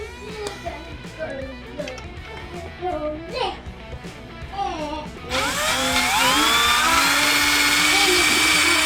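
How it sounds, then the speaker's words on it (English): Speech runs over clattering and rattling for the first five seconds, then a power drill starts boring holes for a motorcycle part and whines loudly and steadily as its pitch rises, close by. "I guess we'll drill this other side."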